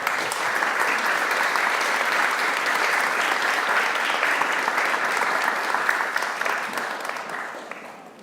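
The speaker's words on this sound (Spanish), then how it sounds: "un aplauso para nuestros invitados" An audience at an architecture school event gives its guests sustained, even applause, many hands clapping steadily before it tapers off.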